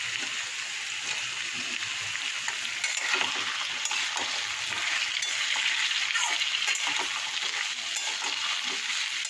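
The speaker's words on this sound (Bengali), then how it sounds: "দেখো পেঁয়াজ রসুন লঙ্কাটা ভাজা ভাজা হয়ে গেছে। এবার এই যে আলুগুলো দিয়ে দেবো, আলু কুমড়ো সব দিয়ে দেবো।" Onion, garlic and chili frying in a pan, with potatoes and pumpkin going in, give a steady close sizzle and hiss with stirring scrapes and small splatters throughout, no talk.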